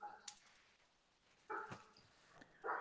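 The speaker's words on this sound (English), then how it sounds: "Somewhere around Scotty, there's a dog that won't shut the fuck up." A dog barks faintly in the distance in short, repeated bursts, heard under people talking.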